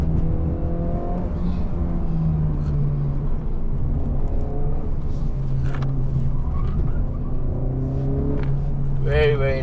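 A Honda FL5 Civic Type R engine holds a steady drone through a corner on a mountain road run, its pitch shifting slightly under constant cabin noise, with someone talking over it.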